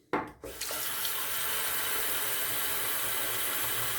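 A bathroom tap turned on to rinse shaving cream off a brush or razor: a brief clatter, then a strong, steady gush of running water into a sink, close and loud.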